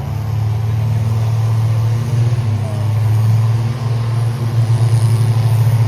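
A show truck engine holds a loud, steady low roar in fifth gear during a burnout at an event, droning continuously close by with slight fluctuations and no clear voices.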